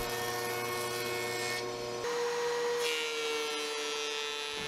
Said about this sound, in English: At the joiner, I'll flatten one face and joint the edge of each piece.